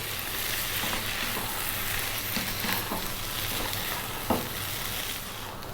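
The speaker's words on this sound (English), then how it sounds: "Now keep stirring all the time now for 3 minutes" Potatoes with chili, cumin and coriander fry in a pan under a steady, even sizzle, with occasional soft scrapes of a stirring utensil close by.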